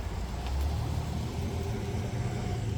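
A car drives past on a street during a dog leash-walk training outing, a steady low engine and tyre rumble swelling slightly and holding through the moment, with no talking.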